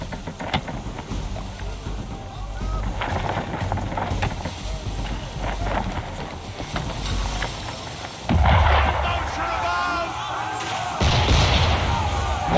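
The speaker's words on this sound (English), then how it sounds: "Why is he shooting at us?" Ship cannons fire in Assassin's Creed 3 during a naval fight at sea, with heavy booming blasts over a constant roar of wind and water, loudest in two bursts near the end.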